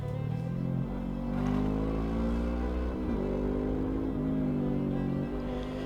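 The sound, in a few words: motorcycles riding, Harley ahead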